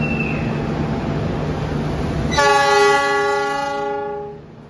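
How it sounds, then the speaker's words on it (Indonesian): Electric-signalled Bangil station in Indonesia as a commuter train departs toward Pasuruan: a steady rumble of the moving train, then a loud sustained horn blast of about a second and a half that fades out. "kereta komuter lain Supas akan diberangkatkan kembali dari stasiun Bangil menuju tujuan akhir yaitu stasiun Pasuruan"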